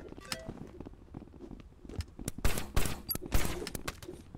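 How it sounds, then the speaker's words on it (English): Gunfire from a sniper in the VR game Rec Room: a few sharp isolated cracks early, then a dense cluster of loud shots and impacts in the second half, fairly close. "this sniper dude, Jesus Christ, he needs to stop with the sniping."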